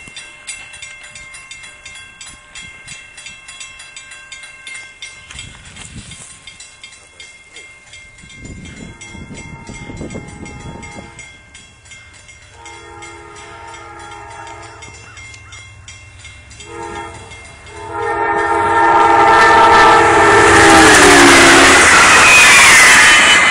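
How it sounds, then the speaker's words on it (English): Amtrak 463 passenger train approaches and roars past a crossing at Oakwood Avenue, its horn sounding loud and close as the rumble of wheels swells to a heavy, sustained wash of noise. "here comes Amtrak 463 about to fly past Oakwood Avenue."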